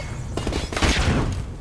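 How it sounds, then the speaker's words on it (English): A flashbang grenade goes off in Call of Duty 4: Modern Warfare Remastered, a sharp, loud burst that blooms into a dense, ringing roar and fills the short clip. "Flashbang out."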